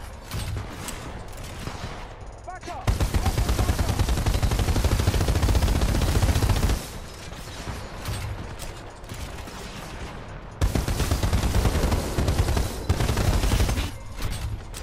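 Heavy automatic gunfire with arc rounds in the video game Titanfall 2, loud sustained bursts in two long stretches separated by quieter gaps of lower combat noise.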